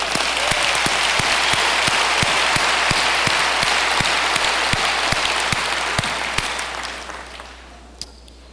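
Loud, sustained audience applause at an IBM EDU 2002 conference meeting in Berlin, a dense wash of clapping that tapers off over the last seconds.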